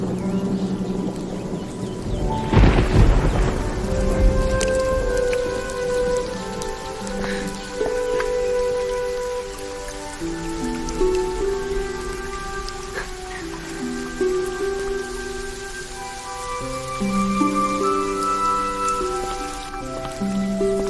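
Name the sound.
rain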